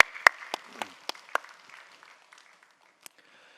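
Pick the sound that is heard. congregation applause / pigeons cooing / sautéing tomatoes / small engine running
congregation applause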